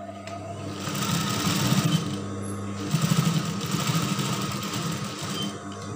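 A sewing machine runs steadily while stitching the left side of a draped skirt, a loud continuous mechanical whir with rapid needle chatter that surges slightly in short bursts, heard alone with no talking.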